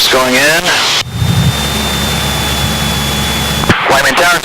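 A Cessna 172's engine drones steadily with a faint whining tone while landing at Whiteman Airport with flaps set at 10 degrees, loud and close inside the cabin, with voices talking before and after.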